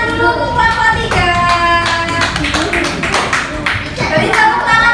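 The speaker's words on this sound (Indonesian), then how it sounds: "Beri tepuk tangan dulu untuk kelompok 3." Primary school class in Indonesia claps for a group, quick scattered hand claps from many children mixed with chatter and tonal voices, fairly loud and close throughout.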